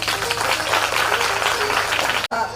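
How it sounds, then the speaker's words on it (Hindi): Audience applause at a Bhagavat Katha religious discourse, a dense steady wash of many hands clapping over a low hum, cutting off abruptly near the end. "तो एक बार ताली बजा दो।"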